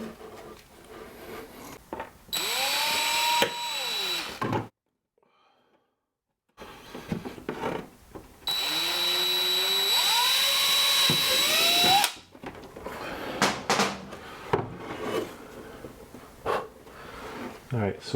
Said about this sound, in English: I'm going to drill through that dot